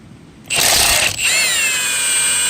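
A Milwaukee high torque cordless impact wrench removes a car's lug nuts up close, a loud burst of rapid hammering lasting under a second, then a high whirring spin as the nut runs off.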